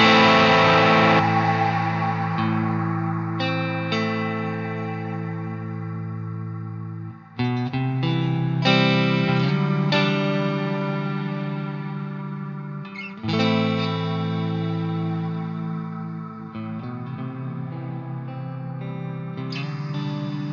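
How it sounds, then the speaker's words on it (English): An electric guitar through the magnetic reverb of an IK Multimedia X-Space pedal rings out in three long strummed chords, each left to decay in a wide, washy, modulated tail. "the 16th and final reverb is the magnetic reverb"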